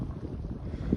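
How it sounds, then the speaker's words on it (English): Gusty wind at a lake during a sunrise campout, roaring steadily as low rumbling buffets against the microphone, loud and close with no voices. "Wind sucks though."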